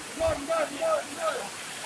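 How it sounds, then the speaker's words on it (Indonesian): Rain falls steadily during an outdoor police press briefing in Trenggalek, a soft continuous hiss underneath someone speaking close by. "Kami mohon maaf kondisinya memang hujan, jadi mungkin suaranya agak terganggu."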